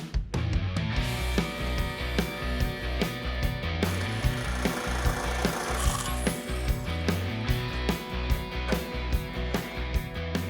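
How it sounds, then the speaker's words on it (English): Thick sheet metal strips being folded on a hand sheet metal brake for a Porsche supercar roof mockup: steady rhythmic metallic clanking and ratcheting, close and loud, repeating throughout with scraping and rubbing between hits. "It's starting to push the limits on this sheet metal brake, but it's working out."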